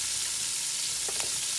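Onions sizzle in a hot pan as a steady, even hiss of frying, close and continuous with no other sounds.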